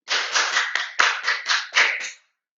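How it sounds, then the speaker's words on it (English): Audience applause for young future-champion athletes at an evening charity event, a burst of clapping from a moderate crowd lasting about two seconds, rising in several swells before stopping abruptly. "Let's give these kids a round of applause for our future champions that are here tonight."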